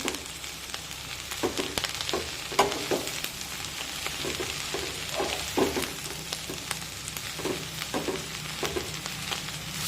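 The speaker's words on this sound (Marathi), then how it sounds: "तर गॅसची फ्लेम ही मध्यम ठेवूया आणि मध्यम आचेवर ही भाजी परतून घेऊया" Rice-plant leaf vegetable sautés in a kadhai over a medium flame, a steady close sizzle broken by regular scraping strokes of a spatula; no voices.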